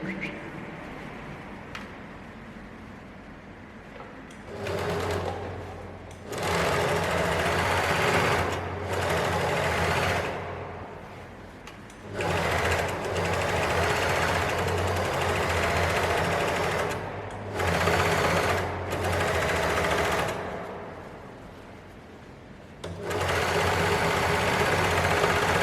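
A sewing machine stitches the side seam of elastic-waistband pants in several steady, loud runs of a few seconds each, separated by brief pauses.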